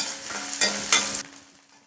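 Onions sautéing in a pan, a brief close sizzle with two loud stirring scrapes before the frying hiss dies away.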